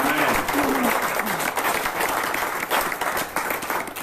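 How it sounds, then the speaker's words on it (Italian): Church congregation applauds during a bilingual Spanish-Italian service, dense continuous clapping from many hands, fairly loud, with a voice speaking over the start. "Dale un aplauso al Señor."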